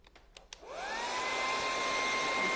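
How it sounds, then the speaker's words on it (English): A hair dryer switched on to dry fresh paint on a western-style porch sign, a few clicks before the motor spins up into a steady close whirring rush with a rising whine. "Maybe I'll just quickly hit that with the hairdryer."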